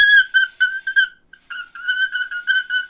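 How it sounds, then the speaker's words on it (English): Shrill whistle blown through a stretched candy wrapper, close and loud, sounding in choppy repeated bursts with a short gap midway before a longer wavering run. "I have a candy wrapper and I can make a whistle sound."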